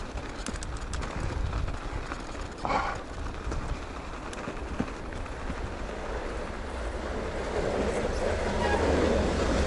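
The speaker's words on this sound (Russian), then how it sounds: "Трамвайчик едет." A tram rolls past on a winter forest route, a rumbling rail and wheel noise that holds steady and slowly swells louder toward the end, with faint outdoor ambience.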